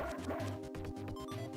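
Chiptune-style dog barks from a dog character in the video game Mother 3, yapping in quick repeated bursts over steady looping game music, with no talking.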